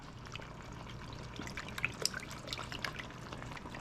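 Broth being poured into a pan of simmering beef stroganoff, a soft steady trickle and splash of liquid lasting a few seconds with a few brighter drips, fairly quiet and close.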